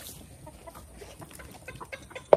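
Farmyard chickens cluck in soft, scattered bursts nearby, a few overlapping hens with one louder squawk at the end.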